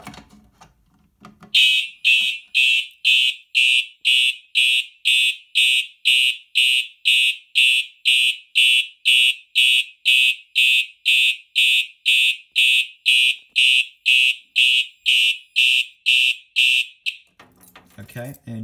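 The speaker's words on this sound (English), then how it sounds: "now we will reset the alarm" A board-mounted fire alarm system under test sounds in steady, loud repeating electronic beeps for about fifteen seconds, then stops, followed by a brief voice.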